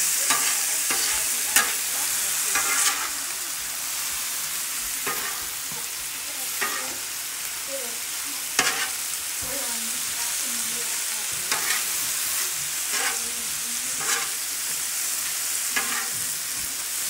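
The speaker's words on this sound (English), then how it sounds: "So what we're going to do now is just mix it all together." Squash burrito filling with ground beef is mixed in a frying pan, giving a constant bright sizzle and repeated utensil scrapes and taps against the pan at irregular intervals.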